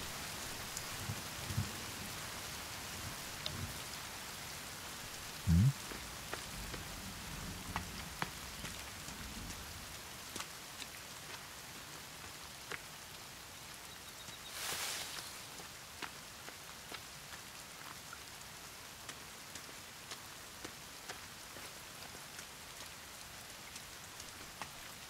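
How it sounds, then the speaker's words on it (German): Steady rain from The Forest video game, a constant hiss of drops falling on surfaces with scattered louder patters and a brief heavier burst midway, with no talking. "Und es regnet mal wieder."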